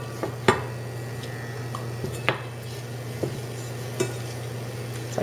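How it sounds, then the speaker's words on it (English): Olive oil heating with roasted tri-color peppers in a pan, a low steady sizzle under a constant hum, punctuated by a few sharp spoon-on-pan clinks spaced a second or so apart. "So we heat up some olive oil."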